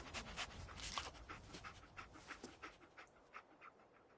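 Dogmeat, the German shepherd companion in the 2015 video game Fallout 4, pants in quick rhythmic breaths with a few short sniffs. It sounds close but faint, with no talking.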